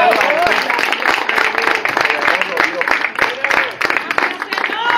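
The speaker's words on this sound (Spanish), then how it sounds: "Denle un aplauso fuerte al Padre" Dense, steady clapping from a church congregation, with voices shouting and talking over it throughout.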